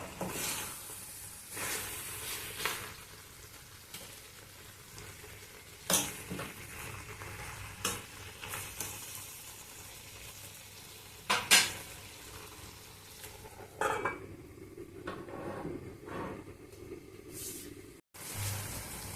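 Pumpkin pieces and curry leaves fry and sizzle in a pan for pumpkin curry, a steady crackle broken by sharp stirring scrapes and clinks of a utensil against metal, with no talking.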